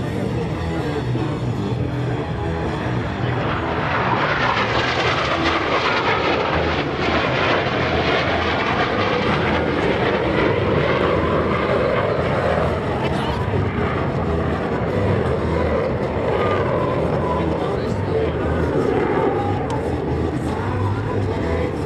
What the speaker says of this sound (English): The 2 solo pilots will next demonstrate the inverted flight capability of the F-18.